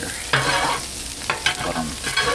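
Crunchwraps frying in butter on a Blackstone griddle, a steady loud close sizzle with a few scraping spatula strokes across the flat top, no voices.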